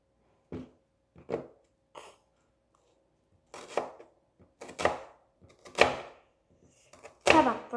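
A knife chops an onion on a board, with single close, sharp thuds spaced apart at first, then coming a little faster and louder, and quiet stretches in between.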